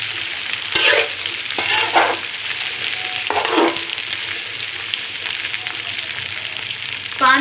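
Okra (bhindi) fries toward light brown in a pan, a constant loud sizzle with occasional bursts of stirring, no voices.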